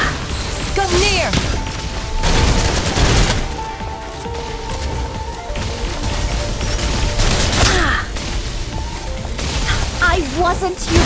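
Gunfire rattles in bursts through a combat scene in the video game Snowbreak: Containment Zone, with loud mechanical crashes and impacts in between and voices talking over the action.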